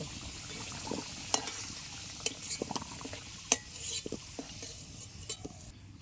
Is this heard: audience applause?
no